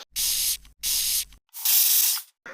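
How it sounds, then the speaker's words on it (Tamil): Three short bursts of blueberry face spray misted from a spray bottle, each a soft airy hiss lasting about half a second, close and fairly loud, no voices. "இப்போ நான் உங்களுக்கு ஸ்ப்ரே பண்ண போகிறேன். இது வந்து ப்ளூபெர்ரி ஸ்ப்ரே."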